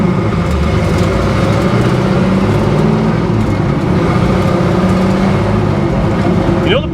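A 1971 Chevy Nova engine with an aggressive camshaft runs steadily, a loud rumbling idle with a lumpy low-end throb that continues without a break.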